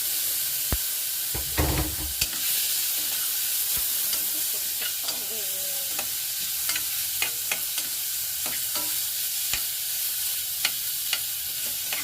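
Tomatoes fry in a pan at breakfast as a utensil stirs them, giving a soft continuous sizzle broken by scattered scraping clicks and one louder clattering stir early on, close by with no talk.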